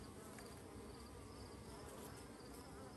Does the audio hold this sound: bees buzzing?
yes